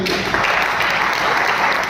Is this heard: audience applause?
yes